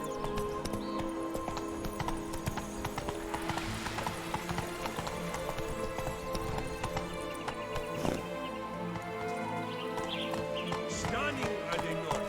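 Horse hooves gallop in a steady, continuous clip-clop rhythm through The Witcher 3: Blood and Wine, loud and close, with a brief whinny and game music and effects layered underneath.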